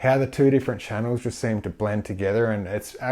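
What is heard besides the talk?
No distinct noise like a dog, phone or traffic.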